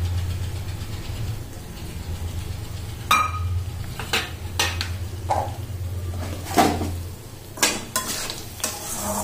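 Basanti pulao with added spices being stirred in a cooking pot, a low steady hum underneath as the spoon scrapes and knocks against the pot in several distinct close strokes, with a faint sizzle and no talking.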